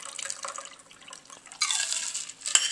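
A watermelon and cucumber martini is poured from a cocktail shaker into a martini glass, a soft liquid splash and trickle lasting about a second, preceded by light clinks and ending with a brief sharp glass tap.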